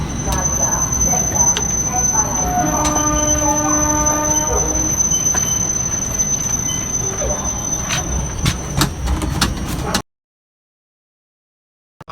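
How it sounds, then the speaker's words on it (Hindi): Inside a moving passenger train in India departing toward Udaipur, a steady loud rumble of wheels on rails with squealing metal tones and clatter fills the carriage, then cuts to silence near the end. "मैं ट्रेन में आ गया हूँ। ट्रेन मेरी छूटते बच गई है।"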